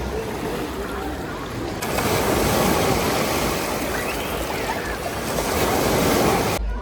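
Waves rolling in a wave pool at the Karpatia water park in Mukachevo, a steady loud wash of churning water and surf filling the whole stretch with a brief drop near the end.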